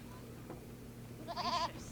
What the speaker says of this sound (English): The Joker is a goat.